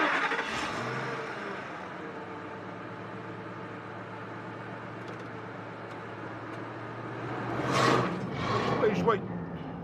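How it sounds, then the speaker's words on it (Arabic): A car engine starts and revs as it pulls away after being shifted into drive. The engine hum swells toward the end, with voices talking over it. "شغل السيارة وحطي عصا القير على حرف الدي وادعسي بنزين"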